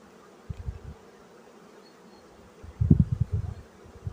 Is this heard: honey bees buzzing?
yes